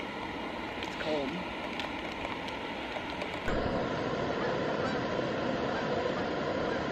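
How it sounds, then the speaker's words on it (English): Geese honking as they fly over a canoe camp at a state park, faint calls scattered over a steady rushing background while a person talks. "Some geese coming through camp."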